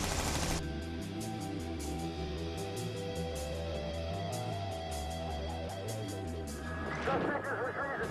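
Heavy gunfire in a police shootout as two suspects roll forward in a car with shot-out tires, a dense run of rapid sharp bursts repeating throughout under a continuous loud low rumble, with a louder flurry near the end.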